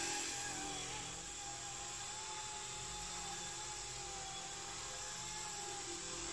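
A small beginner RTF RC helicopter, the Eachine E120, hovers and descends to land, a steady high-pitched whine of rotor and motor, fairly faint with no talking.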